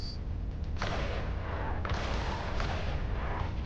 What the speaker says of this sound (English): Sometimes artillery is really, really awesome.